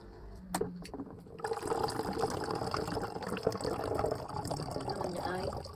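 Hot water pours into a container while making a powdered souvenir drink from Okinawa, a steady rushing, splashing stream starting after a few clicks and continuing for several seconds at moderate loudness.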